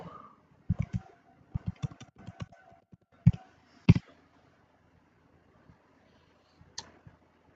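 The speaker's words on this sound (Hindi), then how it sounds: "ये मैं पासवर्ड एंटर कर देता हूं।" A password being typed on a keyboard: a few scattered bursts of quick key clicks, several louder taps near the middle, then long pauses and a couple of last faint presses, close and quiet.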